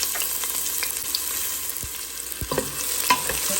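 Chopped onion frying in a pan for adobo with chicken liver, a steady close sizzle with occasional stirring scrapes and light clicks of the utensil.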